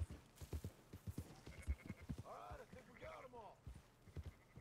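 Horse hooves clip-clop in a Red Dead Redemption 2 game in an uneven trotting rhythm, with voices talking over the steps partway through.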